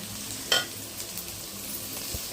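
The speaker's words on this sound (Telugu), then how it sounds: "ఇంకా మంచిగా అయితే మసాలా అంతా వేగనిద్దాము" Masala with chopped mint and coriander fries in a pan for mandi biryani, a soft continuous sizzle with one sharp clink of a utensil against the pan, close by.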